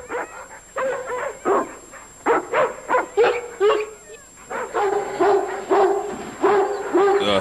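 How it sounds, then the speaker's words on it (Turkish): A dog barks repeatedly in short, uneven bursts mixed with whimpers and yips, fairly close, in a Turkish-dubbed film of Call of the Wild. "Bana kalırsa kendine deli bir köpek almışsın."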